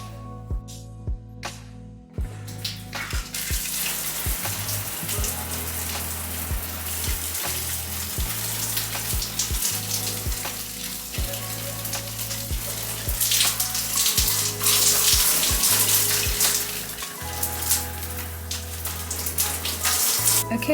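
Water runs steadily from a tap over hair being washed out after detangling, a broad continuous rush with background music throughout.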